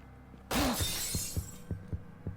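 Glass shatters in a video game, a sudden loud crash followed by scattered pieces clinking and tinkling down.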